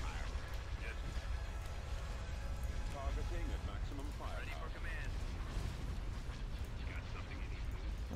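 Space battle explosions in Star Wars Thrawn's Revenge, a dense run of booming blasts and pops over a low rumbling bed, with someone talking over the noise.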